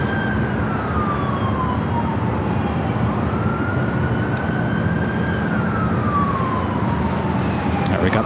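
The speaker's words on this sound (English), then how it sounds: "So the ambulance that you're hearing on the 96th Street Bridge" Ambulance siren on the 96th Street Bridge near LAX, a wailing tone sweeping slowly up and down at a distance over a steady background rumble of traffic and aircraft.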